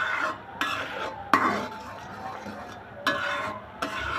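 Thickening milk khirsa being stirred in a pan, Bogura style, with a spoon scraping and knocking against the metal in irregular strokes and a low background hum.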